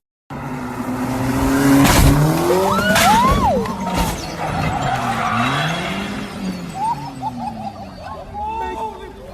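A car launches and jumps across a parking lot, with revving engine, tire squeal and a heavy landing thud, while people shout and react loudly throughout.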